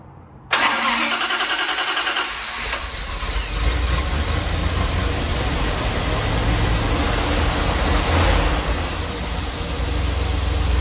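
A car engine fires up after a brief quiet moment and then settles into a steady, loud idle with its timing freshly advanced, running alone without voices for the rest of the stretch.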